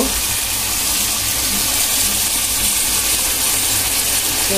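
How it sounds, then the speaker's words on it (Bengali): Hot water poured into a cooking pan for a boal fish curry with tomatoes, a loud continuous rushing gush and hiss held steady throughout, close up and with no voices. "গরম পানি দিয়ে নেব"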